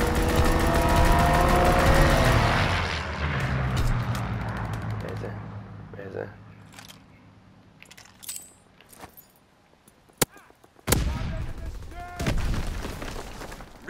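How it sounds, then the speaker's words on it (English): A fighter aircraft's strafing run in Call of Duty: WWII comes in as a loud, dense roar that fades over several seconds. Scattered sharp gunshots and clattering bursts follow against quieter battlefield ambience. "Call for a strafing run. Fighter aircraft approaching target."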